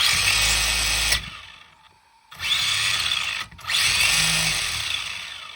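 Tamiya Hotshot 2 RC car with a brushless motor, revved in three loud, close bursts of high motor whine with short pauses between them, sounding a little rough as it runs in.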